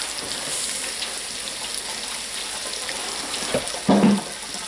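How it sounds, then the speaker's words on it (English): Chopped pieces for a breakfast casserole fry in a pan with a steady, close hiss, broken near the end by a short louder clatter. "So when I fry them, they'll be in little chunks."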